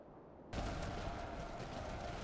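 Sudden loud blast followed by sustained noisy rumble and crackling battle din, grenade explosion with gunfire in the strategy game Master of Command, British troops in a skirmish, dense and continuous with no speech.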